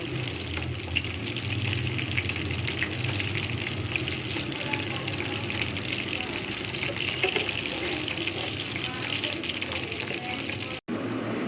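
Pieces of loitta (Bombay duck) fish frying in hot oil, a steady close sizzle and crackle running throughout with no talk, cut off sharply at the very end.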